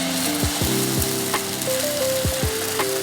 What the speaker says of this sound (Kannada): ನಡೀರಿ, ಇವಾಗ ದೋಸೆ ಬಿಡೋಣ. ಫಸ್ಟ್ ಯಾವ್ದು ಬಿಡ್ತೀರಾ? First tomato dosa ಬಿಡ್ಲಾ?